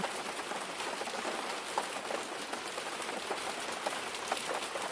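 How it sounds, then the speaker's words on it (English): Steady rain pattering on a surface, soft and continuous, with scattered distinct droplets standing out. "gently focus your attention on the sound of the rain"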